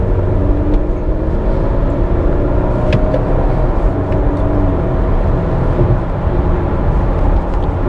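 A 2020 Range Rover Evoque SE P250 accelerates hard in sport mode, its engine and road noise forming a loud, steady roar heard from inside the cabin throughout.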